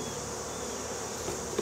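Honey bees hum around a combined hive, a steady close buzzing from a modest number of insects, brief and unbroken.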